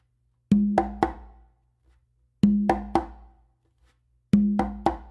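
Conga pattern in three groups: a deep open tone followed quickly by two sharp closed slaps, played solo with short pauses between phrases.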